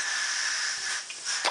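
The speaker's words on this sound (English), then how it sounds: "So I'm gonna go ahead and give it a blow." Air blown steadily through a Stardust Vision v2 clearomizer, a soft, close, dry hiss lasting over a second that fades slightly, then ends in a short puff.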